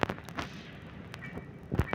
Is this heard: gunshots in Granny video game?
yes